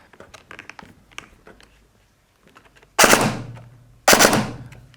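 SSR9 airsoft gun with its motor height adjusted, firing two loud close bursts of rapid shots after a stretch of quiet clicks and handling noises.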